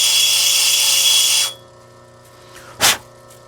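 A power tool grinds steadily as crocodile jasper stone is trimmed at the setting edge, a loud continuous whine that cuts off abruptly, followed by near silence and one short bright burst of noise.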